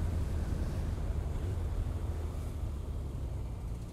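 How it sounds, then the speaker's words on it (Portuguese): A Suzuki RF900R motorcycle is out on a ride, heard as a steady, loud rumble of engine and road noise mixed with heavy wind buffeting against the microphone, constant throughout with no voices. "que delícia que é andar de moto"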